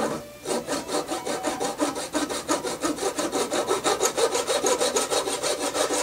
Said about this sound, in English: by cutting into the bottom a little bit by coming down strokes